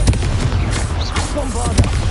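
Confringo fire-spell blasts in Hogwarts Legacy: short booming bursts in a rapid string, with a voice shouting spell names over them.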